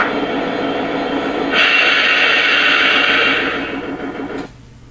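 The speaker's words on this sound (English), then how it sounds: "So now we're going to shut this locomotive down." A Lionel Legacy Heritage SD70ACe model diesel locomotive plays its shutdown sound effect. A loud, droning engine idle swells with a bright hissing burst, then winds down and cuts off near the end, leaving quiet.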